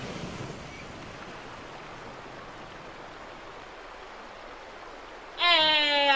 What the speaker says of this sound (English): I redirected the water flow.